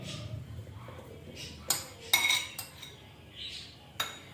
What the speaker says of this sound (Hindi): हम एक बाउल के अंदर खरबूजा डालेंगे, अमरूद